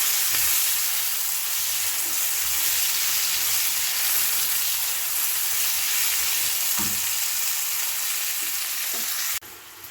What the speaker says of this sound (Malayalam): ഇപ്പോൾ സവോള പതുക്കെ മൂത്ത് വരുന്നുണ്ട്